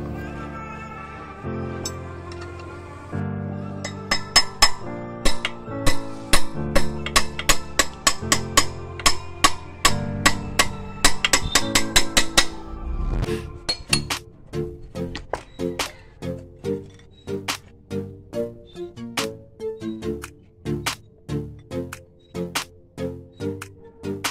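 Hand tools work at a machine's pump to remove it and reach the silencer, making close, sharp metallic clicks and taps that fall into a quick, regular ratcheting rhythm over faint tonal background sound.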